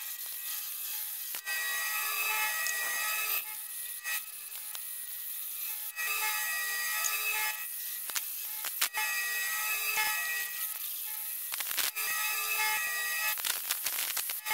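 Slow back-and-forth strokes of a hand saw grind through an oiled steel tractor grader blade plate, a rasping, even rhythm close up with brief pauses between runs of strokes.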